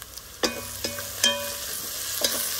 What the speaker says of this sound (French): le oignon, comment il vient, il rougit bien dans le fond